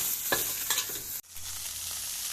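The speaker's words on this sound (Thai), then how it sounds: "ผัดหมูสุกนะคะ" Pork sizzles with red curry paste in a hot pan, with scraping spatula strokes and a crackling fry, then a sudden short drop before the sizzle resumes at a lower, steady hiss.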